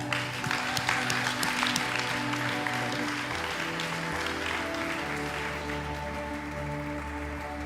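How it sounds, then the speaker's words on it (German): An audience claps steadily, a dense wash of applause that holds at an even level throughout, with a low hum underneath. "Kann man noch einen großen Applaus versehen."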